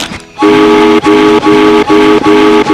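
An old steamboat whistle in a cartoon sounds a series of about five loud, close, evenly spaced blasts, each a bright, steady, multi-toned hoot separated by short gaps.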